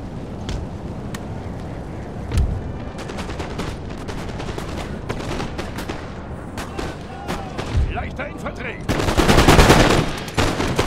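Gunfire in the strategy video game Napoleon: Total War, with dense volleys of musket shots crackling through a steady battle din and a louder burst of firing near the end.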